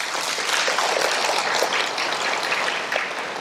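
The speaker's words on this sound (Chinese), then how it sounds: "那我们还是给台湾鼓掌一下好了啦哈" An audience in a lecture hall claps steadily. The dense applause holds at an even, fairly loud level for the whole stretch, with no speech over it.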